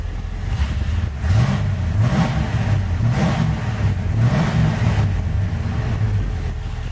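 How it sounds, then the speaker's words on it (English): A Chevrolet Camaro Pro Touring engine revs repeatedly from idle in neutral, a loud, close, deep rumble rising and falling in several even blips, with no talking. "it's not an obnoxious sounding car. It's not too loud, but it has a nice little rumble."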